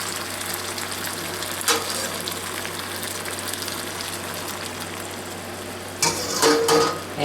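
Creamy risotto with Italian sausage and mushrooms simmers in a pan over medium-low heat, a steady soft sizzle broken by brief scraping stirs near the start and a louder stirring burst at the end.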